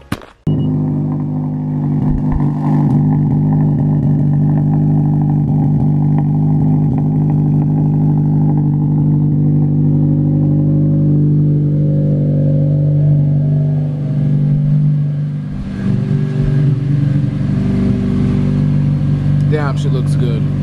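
A loud Honda Civic SI drives steadily from inside the cabin, its engine droning and rumbling under occasional revving, heavy and continuous for the whole stretch.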